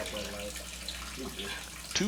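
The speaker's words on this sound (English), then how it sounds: "I've cut the water off to the house, and now I'm draining it down" Water drains from a house's plumbing lines after the supply is shut off, giving a steady low rushing flow with a faint splash near the end.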